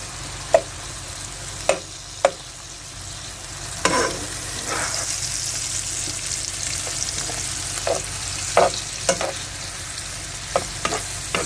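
Spam hash with onions fries in a pan on medium-high heat, a constant close sizzle punctuated by occasional sharp spatula scrapes and taps, with no one talking.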